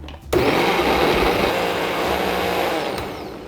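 A kitchen blender starts abruptly and whirs loudly and steadily, grinding pear, apple and onion with a splash of sand lance fish sauce, the motor roar holding for a few seconds before easing slightly.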